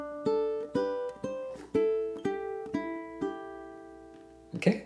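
A fingerpicked ukulele plays a measure of bright plucked notes in a steady eighth-note rhythm, the last note left ringing before a short soft rustle at the end.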